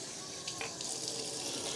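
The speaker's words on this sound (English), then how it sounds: "sure you thoroughly rinse out all the conditioner as much as you can, so that there's no buildup" Water running steadily from a tap while conditioner is rinsed out of a wig, a close, continuous hissing stream with a brief splashing shift partway through, no talking.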